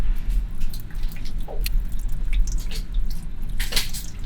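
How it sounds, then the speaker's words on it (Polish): Hot water poured over a raw salmon fillet set on a rack, giving a steady close splashing and dripping stream throughout with a few sharper droplet splashes. "Zalej łososia gorącą wodą."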